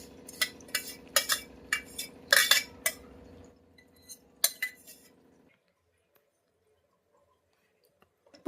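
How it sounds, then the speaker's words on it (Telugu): A spoon stirs fried paneer pieces into thick palak curry in a pan, giving a quick cluster of close metallic clinks and scrapes against the pan that thins out to a few soft taps before near silence. "ఇప్పుడు మనం ముందుగా ఫ్రై చేసి పెట్టుకున్న పన్నీర్ ముక్కల్ని దీంట్లో వేసి కలుపుదాము."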